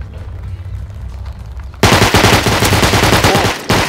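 Rapid automatic gunfire in the video game Rust, loud and close, bursting in suddenly after a quieter stretch and continuing as a dense, steady stream of shots.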